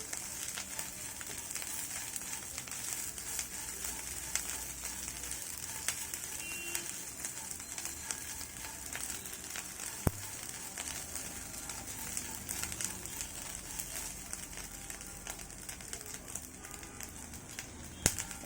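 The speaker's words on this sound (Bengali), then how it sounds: "ধনিয়া পাতাগুলো একটু ছিঁড়ে দিয়ে দিচ্ছি এগুলোকে সাথে এক মিনিট নেড়ে নেব" Torn coriander leaves fry in a pan for lau pata vorta, a faint, steady low sizzle and crackle with scattered small clicks, quiet and continuous, with no voices.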